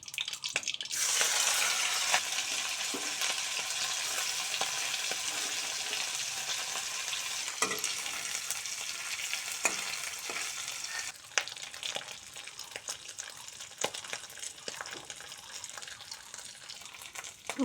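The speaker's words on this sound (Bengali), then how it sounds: "এবার আমি শুটকি মাছগুলো ভালোভাবে লাল লাল করে ভেজে নিব।" Dried fish frying in mustard oil in a wok gives a steady, loud broadband sizzle throughout, with occasional sharp crackles and spatters and a slight drop in intensity toward the end; no voices.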